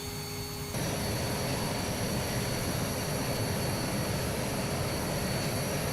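Hawk T1 jet in a flight simulator spooling up for takeoff, a quiet hum that jumps into a loud, steady roar of jet engine noise with a thin whine on top.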